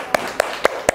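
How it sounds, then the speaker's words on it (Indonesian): Four sharp, evenly spaced claps or taps ring out in a classroom as a student group is applauded, each a crisp isolated strike over a quiet room background. "Oke, beri tepuk tangan buat kelompok 3."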